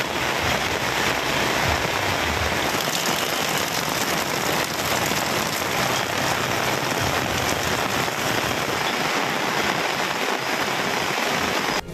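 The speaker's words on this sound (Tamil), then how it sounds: "மாலை முதலே விட்டு விட்டு மழை பெய்தது." Monsoon rain in coastal Tamil Nadu pours down steadily onto surfaces, a dense, unbroken hiss and patter holding at the same level throughout with no voices.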